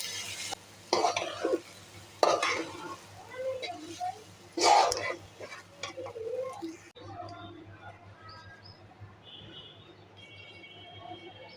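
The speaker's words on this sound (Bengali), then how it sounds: "আলাদা করে ভাজার কোনো দরকারই নেই, আমি এটার সাথে একদম ভেজে তারপর গরম পানি দিয়ে দিব।" Washed rice and lentils for khichuri fry in a pot: soft, quiet sizzling under scraping stirs, with a few sharper clatters of the spoon against the pot early on before it settles to a low hiss.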